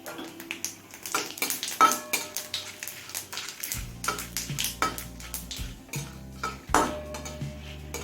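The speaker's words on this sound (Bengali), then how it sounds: "এবার এই তেলে ফোড়নে দিচ্ছি পটার চামচ গোটা জিরে দুটো তেজপাতা আর একটা শুকনো লঙ্কা" Whole cumin, bay leaves and a dried red chili tempering in hot oil for a rohu fish curry: busy metal spoon clinks and scrapes against the pan over a light frying sizzle, with a low hum entering midway.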